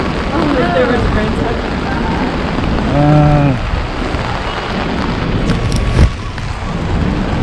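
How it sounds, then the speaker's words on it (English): Heavy rain pours steadily onto a New York City street in Chinatown, a loud dense hiss throughout, with a brief horn-like tone and a voice speaking partway through. "the rain is coming down hard"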